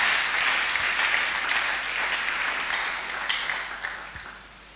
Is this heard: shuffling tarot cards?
no